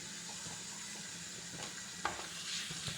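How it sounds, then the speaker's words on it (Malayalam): Green chillies and chopped onion sizzle steadily in hot oil in a pan while being stirred, a constant frying hiss with a few scraping stir sounds near the end. "ഇനി നമുക്ക് അതിനകത്തോട്ട് പച്ചമുളക്, ഒരു ചെറിയ സവോള ചെറുതായിട്ട് അരിഞ്ഞതും കൂടി ഇതിനകത്തോട്ട് ചേർത്ത് ഇളക്കി"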